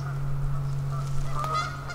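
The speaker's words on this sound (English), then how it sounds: "These geese are yelling at those geese" Geese honk back and forth near a beehive yard, with a steady low hum beneath and a few clearer honks toward the end.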